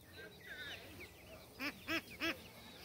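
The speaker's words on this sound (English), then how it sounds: "There's the ducks, ducks, ducks." Ducks on a Smoky Mountain homestead give three loud, evenly spaced quacks after softer, scattered calls and low background chatter.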